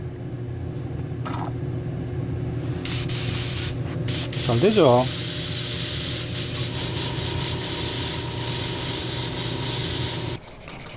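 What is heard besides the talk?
repaired airbrush spraying air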